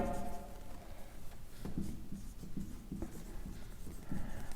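Writing on a board during an accounting lecture, soft repeated scratchy strokes at a moderate pace over a steady room hum, with no speech.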